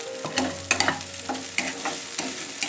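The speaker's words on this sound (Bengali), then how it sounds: "1 মিনিট মতো আমি এই পেঁয়াজ আর ফুলকপিটা একটু ভেজে নেব" Onion and cauliflower frying in a pan while being stirred, with a soft sizzle and repeated scraping spatula strokes in an uneven rhythm, close and fairly quiet.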